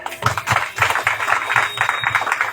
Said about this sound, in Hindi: आइए खुशी से, आनंद से परमेश्वर के ताली तो बजा दें।